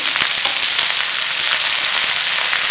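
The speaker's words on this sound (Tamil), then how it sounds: "நல்லா வதக்கணும்." Ajwain leaves and mint sautéing in a pan give a loud, steady, close sizzle throughout, with faint scraping and stirring ticks and no talking.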